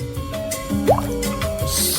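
Water mixed with fish oil pours into a glass in a short, steady liquid stream with a drip and a brief rising fill tone, over a low background hum.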